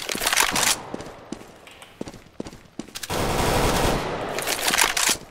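Gunfire in the video game CS:GO: several rapid automatic bursts and single shots, loud and close, with a long sustained burst of fire in the second half and no speech over it.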